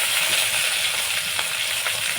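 Onions and green chillies frying in mustard oil in a wok, a steady close hiss of sizzling oil with a few faint scrapes, continuous and fairly loud.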